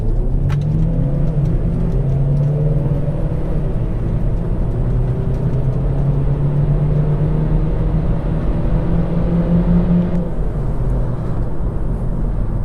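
A 2018 Kia Niro PHEV accelerates hard from a standstill to 60 mph. The engine and road roar build steadily in pitch as it gains speed, loud and continuous from inside the cabin.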